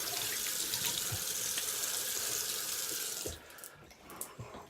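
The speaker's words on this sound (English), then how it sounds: "Then I'll do a cold water rinse." Bathroom tap water runs in a steady, close hiss into a sink for a cold face rinse after a shave, then cuts off and leaves a few faint drips and splashes.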